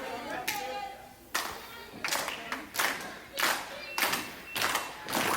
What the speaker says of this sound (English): Crowd comes alive for Mickey Fulp.